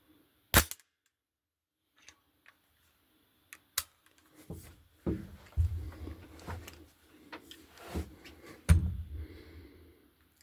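A Tokarev TX1 12 gauge pump shotgun fires several loud, sharp outdoor shots spaced a few seconds apart, each with a short rumbling echo, and quieter handling clatter in between.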